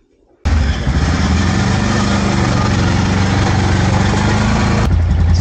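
A 650cc motorcycle engine at a volcano summit trail abruptly starts and holds a loud, steady, close idle, a rough continuous throb with one sharp click near the end.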